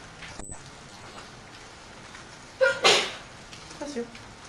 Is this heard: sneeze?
yes